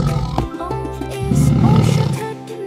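A lion roars loudly and close, a deep rumbling roar that swells and fades over a few seconds, with no talk over it.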